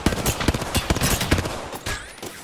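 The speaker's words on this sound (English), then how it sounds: "Hostile spotted. Taking fire." Rapid bursts of automatic gunfire from the Apex Legends video game, dense overlapping shots crackling and popping close by in a frantic fusillade.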